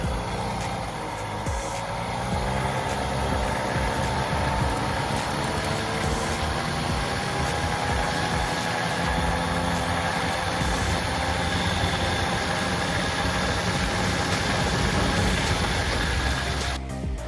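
A Motobecane moped engine with worn bearings runs steadily, a rough droning idle with rattling vibration, close and continuous, no voices.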